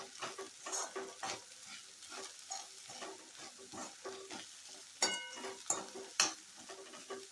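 Okra bhaji with coriander stirred in a pan, with faint, steady sizzling frying and soft repeated scraping strokes. A few sharper metallic clinks come near the end, and nobody speaks.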